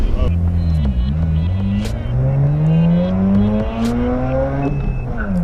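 A Mazda RX8 fitted with a Racing Beat aluminum lightweight flywheel accelerates uphill in a 0-60 run, engine rising in pitch through the gears with brief drops at each shift, loud and close.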